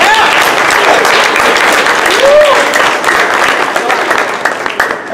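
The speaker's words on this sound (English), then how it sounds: "You can go ahead and applaud at this point." Steady, dense applause fills a soccer awards banquet hall, many hands clapping together at an even level, with faint voices mixed in before the clapping thins slightly toward the end.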